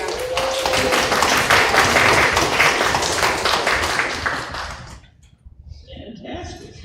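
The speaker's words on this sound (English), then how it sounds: "Let's give them a round of applause." Audience applause at a county school board meeting, a dense, loud wash of many hands clapping for several seconds, then thinning out and dropping away, with a voice speaking as the clapping ends.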